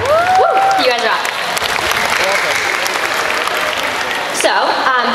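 A pageant audience claps loudly and continuously, with dense applause and a few cheers. A voice sounds briefly at the start and end.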